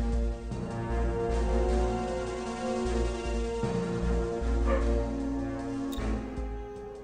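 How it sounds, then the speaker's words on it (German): A pet dog barks and whimpers in a home, a few short woofs that sound somewhat distant and muffled beneath the steady sound of a Star Trek Armada III strategy game. "mein Hund bellt."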